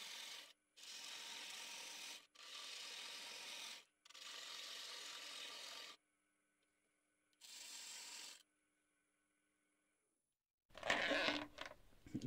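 An old chisel cuts wood turning on a lathe, giving several rasping, scraping passes a second or two long, separated by pauses with a faint machine hum, then a sharper burst of noise at the end.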